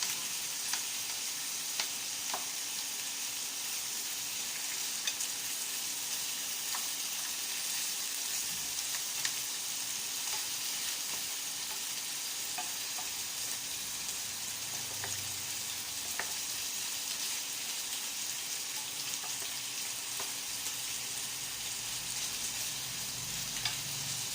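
Pork belly frying skin-side down in a pan, fat rendering out, gives a steady, dense sizzle and crackle throughout with scattered sharp pops and spits, close and fairly loud, no talking.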